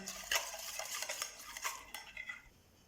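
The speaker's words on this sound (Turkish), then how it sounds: "1 çay kaşığına yakın tuzumu ekliyorum. Hafiften bir karıştırıyorum." A spoon stirs salt into water in a kneading bowl for crepe batter, giving close, light metallic clinks and scrapes in a quick, uneven rhythm that fade toward the end.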